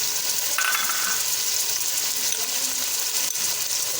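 Onions, chopped tomatoes and green chillies tumble into meat frying in oil for a lentil dish, giving a steady close hiss and sizzle with a brief burst of crackle as they hit the pan, with no talking.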